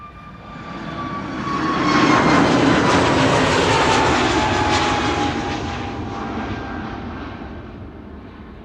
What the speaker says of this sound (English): I think this is the first A321neo of the show taking off here from this runway.